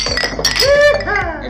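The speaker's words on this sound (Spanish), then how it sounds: "que se escuche el brindis" Glasses clink together in a toast, several bright chinks ringing out close by while people talk and cheer around them.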